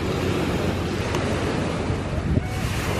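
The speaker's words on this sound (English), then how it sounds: "we are on the beach in Menton. We have front row seats to the sea." Sea waves wash onto the beach at Menton on the French Riviera, a dense, continuous surf roar mixed with gusty wind buffeting the microphone, close and fairly loud with no voices.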